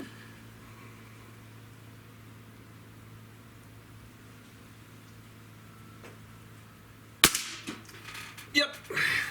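A Diana 54 Airking Pro air rifle fires once with a sharp, close crack after several quiet seconds, followed by brief mechanical rattles and clatter.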